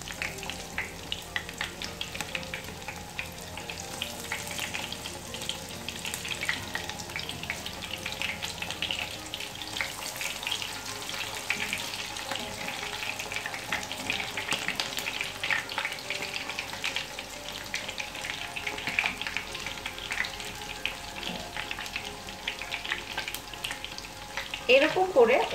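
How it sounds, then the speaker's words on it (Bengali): Shrimp fritters fry in oil over medium-low heat, giving a long, steady sizzle with scattered clicks and scrapes as the pieces are turned, and a brief louder clatter near the end. "এরকম করে উল্টিয়ে পাল্টিয়ে আমি এই চিংড়ি মাছের বড়াগুলো ভেজে নেব।"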